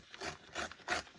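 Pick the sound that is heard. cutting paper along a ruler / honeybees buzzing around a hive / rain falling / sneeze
cutting paper along a ruler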